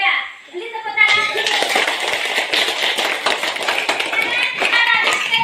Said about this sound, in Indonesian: Beli tepuk tangan.